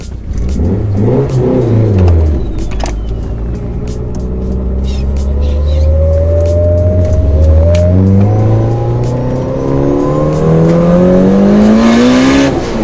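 A Mitsubishi Lancer Evo 8 accelerating hard, heard loud and close from inside: the engine climbs through rising revs, drops at a gear shift, then pulls up through another long sweep, with faint talk beneath.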